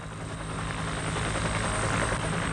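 Military helicopter of the 197th Helicopter Company flying over Vietnam in 1965, a loud, steady rotor and engine drone that fills the whole stretch without a break.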